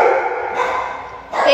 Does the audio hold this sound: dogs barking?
yes